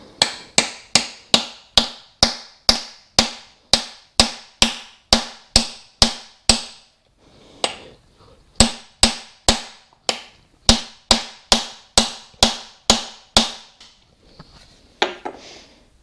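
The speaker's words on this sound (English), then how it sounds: "just grab your socket, stick it on the top there, and we're just going to tap it back in until it sits where the other ones are" A socket is used to tap a Welsh plug into a Classic Mini 1275 A+ engine block: two runs of evenly spaced, sharp metallic knocks, about a dozen each, loud and close, with a short pause between them.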